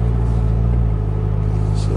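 A supercharged C7 Corvette with an Edelbrock E-Force blower drives along, its low engine rumble steady and droning from inside the cabin while someone talks over it.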